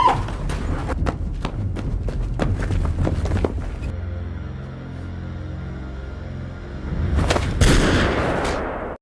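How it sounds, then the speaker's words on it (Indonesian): Gunfire and a struggle from the 2004 film Fighter in the Wind: a burst of sharp cracks and thuds crowds the first few seconds, then a low droning lull gives way to another loud, dense flurry of impacts near the end. "Dan di sebuah ruangan Baidal pun berkelahi dengan tentara itu hingga Baidal pun tertembak."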